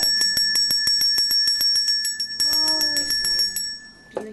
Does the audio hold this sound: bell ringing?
yes